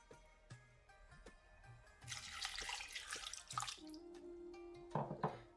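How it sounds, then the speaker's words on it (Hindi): Water pours into a pot of keema (minced meat) and arbi (taro) curry as it's set to cook, a splashing, gushing flow rising midway and continuing in bursts with light clinks. "पानी हम इसमें इतना ऐड करेंगे कि जिसमें ये कीमा और सब चीज़ें गल जाए।"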